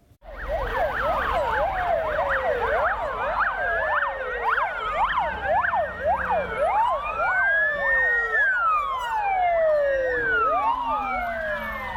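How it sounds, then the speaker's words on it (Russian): Several emergency vehicle sirens wail in a town, their overlapping rising and falling tones loud and continuous across the whole stretch, with no voices over them. "Это утро в городе воинской славы началось с воя сирен"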